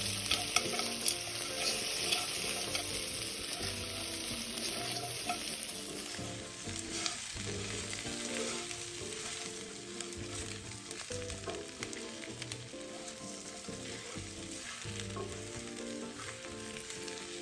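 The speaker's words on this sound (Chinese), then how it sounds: "然后再将预先备好的五花肉加入，冰糖40克，一起拌炒均匀。" Pork belly stir-fried with rock sugar in a pan, a steady close sizzle and frying hiss with the scrape and clatter of stirring throughout, no voices.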